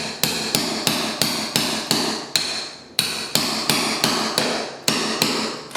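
A rapid series of about seventeen loud, close hammer strikes pounding at an angle into a wood floor, evenly spaced with one short break midway, no voices.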